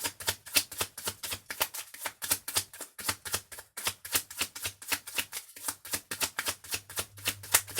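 Tarot cards are shuffled in quick repeated riffles and slaps, a crisp rhythmic patter of card bursts close up with brief pauses, no talking.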